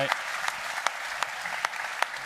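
Sustained audience clapping for speakers at a Daikin VRV Summit plenary session, dense and even with sharp individual claps popping out at intervals, no talk on top.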